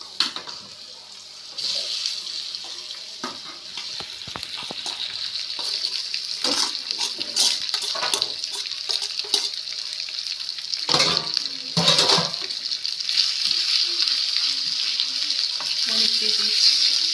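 Potatoes fry in oil in a pan with a loud, continuous hissing sizzle close up, broken by occasional stirring scrapes and clatters.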